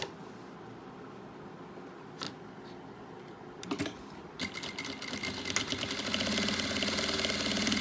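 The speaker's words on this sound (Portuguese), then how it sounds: "Vamos lá, começamos a costurar onde tem a abertura das abas." A sewing machine stitches a cushion, starting with a few clicks and short bursts before settling into a steady, fast mechanical whirr that grows louder and runs continuously to the end.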